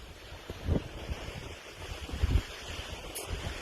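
Ocean waves washing onto a beach in Spain, a low rumbling surge with a couple of swells and a constant windy hiss over the microphone, nearby and unaccompanied by speech.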